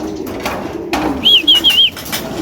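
Racing pigeons returning to their loft after a training flight call in a short run of bright coos, close by, after a few soft knocks and rustles.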